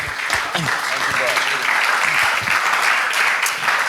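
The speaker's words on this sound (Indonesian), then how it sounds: "Mari kita berikan tepuk tangan." A congregation at a church rally in Bali applauds warmly, continuous crowd clapping with voices talking and calling out over it.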